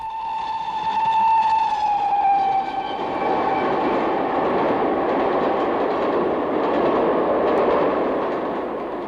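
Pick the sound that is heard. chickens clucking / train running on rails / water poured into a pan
train running on rails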